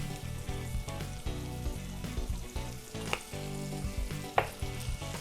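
Chopped onions with a pinch of salt sizzle and crackle steadily in a hot pan, the frying hiss broken by occasional clatters of stirring, close up and with no talking.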